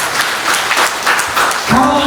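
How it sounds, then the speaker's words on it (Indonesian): A church congregation claps during a sermon, a steady wash of applause with a voice speaking over it and a brief tonal sound near the end. "Kasih tepuk tangan."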